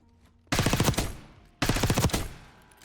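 Two rapid bursts of automatic gunfire from a low-recoil rapid-fire weapon in Black Ops 6, each burst loud and close, roughly a second long with a short gap between them.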